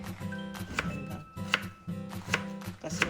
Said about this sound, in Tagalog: hiwain na naman natin ng maliliit ito